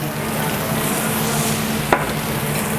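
Seafood fried rice with squid and fish balls stir-fried in a pan, with a steady close sizzle and constant hiss throughout and a single sharp scrape or clank of the utensil near the end.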